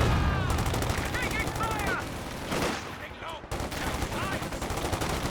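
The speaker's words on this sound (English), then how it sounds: "it's definitely shooting at infantry" Rapid machine-gun bursts fire from a vehicle in the strategy game Company of Heroes 2, with dense, continuous crackling shots over battle noise while a commentator talks throughout.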